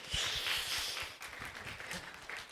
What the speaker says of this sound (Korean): 열심히 하라고 우리 박수 한번 칩시다